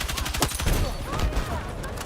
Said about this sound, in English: the UMP feels really good at strafing and shooting at the same time